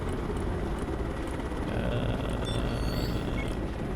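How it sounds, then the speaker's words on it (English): Constant dense rotor whir and engine roar of a helicopter in the video game Broken Arrow, steady and moderately loud, with no talking. "Helicopter's getting back up on its feet."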